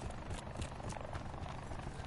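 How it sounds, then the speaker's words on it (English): Helicopter in a Call of Duty Black Ops 4 Blackout match, a steady low rotor thump with a broad whooshing wash, moderately loud and continuous as it passes, no talk over it. "Someone's got a helicopter."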